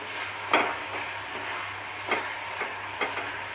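A coconut laddu mixture cooks in a pan under a faint, soft sizzle, broken by several sharp scrapes and taps of a spoon stirring it at irregular intervals.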